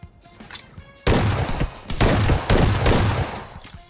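Bursts of rapid video-game gunfire come in loud, dense volleys after a quiet start, several clustered rattling strings of shots close together with a brief dip between them.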